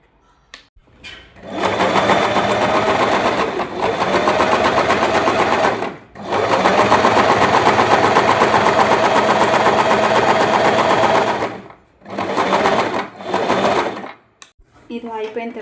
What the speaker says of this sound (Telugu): ముందుగా ఇక్కడ కుట్టు వేసుకోవాలి.